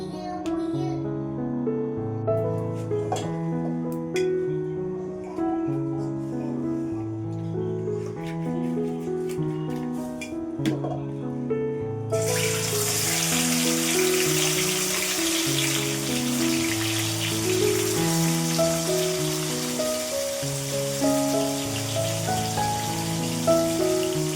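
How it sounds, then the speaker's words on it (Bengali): Fish lightly fried in a pan sizzles with a steady crackling hiss that swells louder midway, playing under soft background music. "এখন হচ্ছে মাছটা ভেজে নেব তবে মাছটা খুবই হালকাভাবে ভাজবো"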